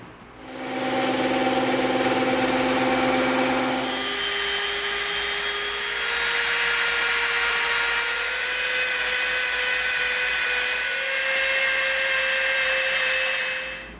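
A bandsaw cuts through EVA foam for a Halo Magnum prop, giving a loud, steady whine. The pitch shifts partway through as the blade bites into the foam, and no one speaks.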